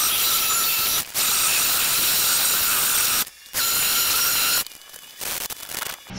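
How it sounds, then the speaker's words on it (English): Sandpaper rubbing over a repaired wooden door jamb, loud close scratchy strokes running in long bursts with brief pauses between them, no talking. "So let me go ahead and sand it down."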